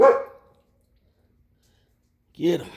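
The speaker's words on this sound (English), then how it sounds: "That's my dog barking at my nephew." A dog gives a short bark close by in a garage during a 5.7 Hemi rocker arm install, following a man's brief spoken words.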